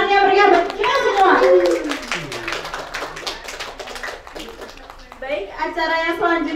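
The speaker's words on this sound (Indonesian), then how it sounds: "Sekali lagi tepuk tangan yang meriah buat kita semua" An audience at a student debate claps, a light scattered patter of hands under ongoing voices, with someone talking at the start and again at the end.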